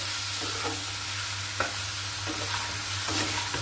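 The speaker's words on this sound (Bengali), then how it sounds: "এই যে আমার শাক ভাজিটা প্রায় শেষের পথে।" Bottle gourd greens with pumpkin bori fry in a pan, giving a steady sizzle with periodic scraping strokes from a spatula being stirred, close and continuous with no talking.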